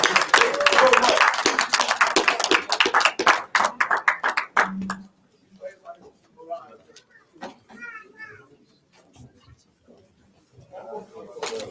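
An audience gives panelists and moderators a round of applause, loud dense clapping that fades out after about five seconds, followed by scattered voices and chatter from the room.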